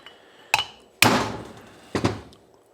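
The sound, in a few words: hammering valves out of Honda XR250L cylinder head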